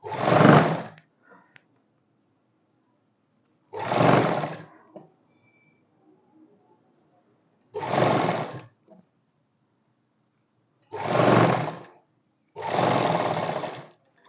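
An electric sewing machine running a thick stitch along a kurti seam, in five loud, close whirring bursts, each about a second long, separated by silent pauses.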